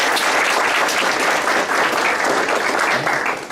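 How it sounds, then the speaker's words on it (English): An audience at a leadership and mentoring day event claps steadily for a few seconds, the dense applause holding loud and even throughout. "Please give a round of applause, please."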